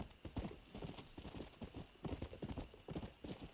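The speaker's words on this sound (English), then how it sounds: "I went ahead and called my horse, and I'm just going to ride into an open clearing" Horse hooves clip-clopping at a steady trotting rhythm as a rider crosses an open clearing at night in the Western video game Red Dead Redemption, continuous and fairly close, with no talk over it.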